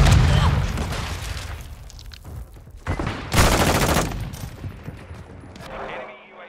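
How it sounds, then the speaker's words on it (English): A flash grenade detonates in a first-person shooter amid heavy gunfire, with a loud broadband burst around the middle, dense crackling shots before it and a fading ringing tail afterward, while a voice shouts. "Flash grenade!"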